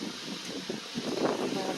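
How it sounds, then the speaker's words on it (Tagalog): Strong gusting wind blows outdoors under an overcast sky ahead of the first May rain, a steady rushing roar that buffets the microphone and swells toward the end. "Saka lakas ang hangin"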